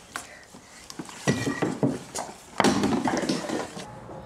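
Spoon stirring a mixture in a bowl during Thermomix DIY baby food preparation, with clinking utensil-on-dish scrapes and taps that grow louder midway, close and without speech.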